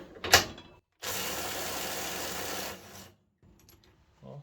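A tool grinds loose bolts that had been tightened to 225 Nm, giving a short sharp burst and then a steady rattling whir of about two seconds before it stops, with faint clicks afterward.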